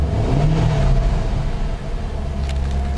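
A car engine idles close by, a steady low rumble and hum with a faint higher whine, holding at an even level throughout.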